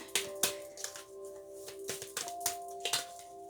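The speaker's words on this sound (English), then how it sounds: "They're a little big to shuffle, but we'll try." Soft papery riffling and light taps of large oracle cards being shuffled, several short bursts close by in an otherwise quiet room with a faint steady hum.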